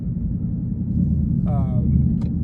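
A 2021 Mustang GT with a Flowmaster Outlaw exhaust and X pipe cruising onto a highway gives a deep, steady rumble that stays loud and close, with a brief voice-like tone partway through.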